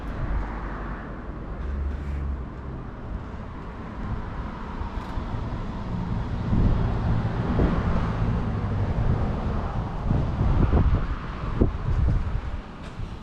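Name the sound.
cars passing by outdoors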